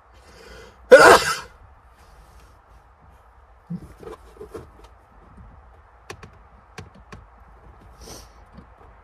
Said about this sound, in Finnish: Mulla tulee aivastus.